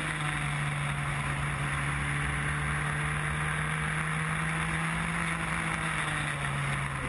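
A racing car at Oulton Park holds fifth gear through Island bend, its engine a steady, loud, continuous drone with a sustained tone, heard from on board with no talking.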